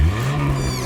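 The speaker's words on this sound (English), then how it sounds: "That sound is just Tilly's turbocharger," A cartoon tow truck's turbocharger gives a steady, loud mechanical whir with a low engine drone throughout, alone and without speech.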